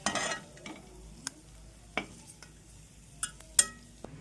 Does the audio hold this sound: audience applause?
no